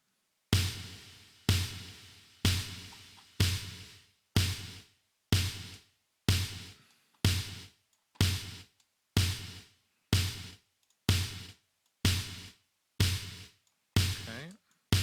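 An 80s-style snare drum sent through a plate reverb with a gate, struck about fourteen times at a steady pace, each hit a sharp burst of big reverb that is cut off abruptly, heard alone without talk.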